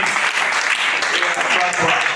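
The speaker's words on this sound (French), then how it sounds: "Acclame Jésus" A church congregation applauding during a worship service, a dense, loud burst of clapping mixed with cheering voices for about two seconds.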